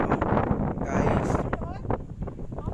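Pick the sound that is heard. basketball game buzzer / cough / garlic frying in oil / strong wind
strong wind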